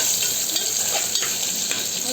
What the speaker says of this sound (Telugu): ఇందులోనే ఇప్పుడు నేను ఉల్లిపాయలు వేస్తున్నాను.